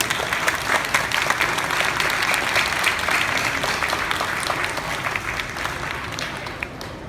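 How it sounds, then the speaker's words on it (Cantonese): An audience of alumni and former students at a school gathering applauds in a dense, sustained burst of clapping that tapers slightly toward the end. "大家俾啲掌聲。"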